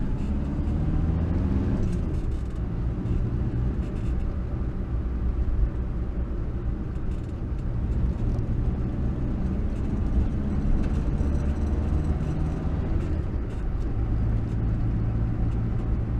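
A 1962 Morris Minor driving, with a steady engine drone and road rumble heard from inside the car, loud and continuous throughout with no talk.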